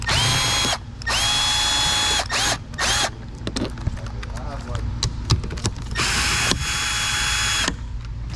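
Power tool driving out 10 mm bolts on a Tesla Model X rear door panel, with several loud whirring bursts separated by short pauses and ratchet clicks, and someone speaking in between.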